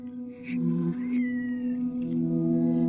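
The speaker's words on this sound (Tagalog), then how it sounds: "Daming pusa dito." Cats meow in drawn-out, whining calls that overlap one another, close by and fairly loud, with no talking, in a shrine cemetery.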